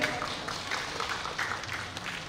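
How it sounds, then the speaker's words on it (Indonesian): An audience claps at a ceremony marking a professor's retirement, with dense, continuous applause at moderate loudness mixed under a speaker's voice. "Sekali lagi tepuk tangan untuk Prof. Nani."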